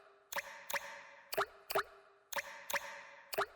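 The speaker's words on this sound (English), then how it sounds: "listen to those water drips" Water drips fall in a cave, each drop landing with a clear, resonant plop, about eight in a steady, slightly uneven rhythm, close and distinct against quiet.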